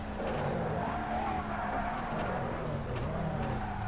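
A race car in TOCA Race Driver 3 roars past while another brakes hard, engine note rising and falling with tire squeal, loud and close throughout.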